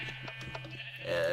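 Sheep in the Minecraft video game bleating in short bursts over a steady game hum, with a louder bleat near the end, close and clear, among four sheep penned in cells at an automatic breeding station.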